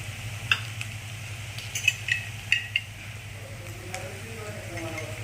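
Capsicum being sautéed in a pan, with a steady low hum, light scraping stirs and a few sharp metallic clinks of a utensil against the pan.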